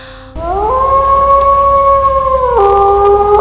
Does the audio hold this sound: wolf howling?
yes